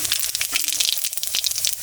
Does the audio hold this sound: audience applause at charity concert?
no